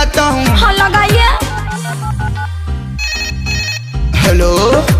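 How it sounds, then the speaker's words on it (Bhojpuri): A phone rings with a loud melodic ringtone after a call is placed, the tune playing continuously for about five seconds with no talking over it. "अभी मैं फोन लगाता हूँ।"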